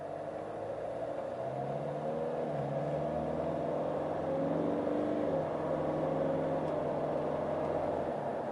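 A used car's engine drones steadily while accelerating, its pitch rising gradually and swelling slightly louder midway, heard from inside without any talking.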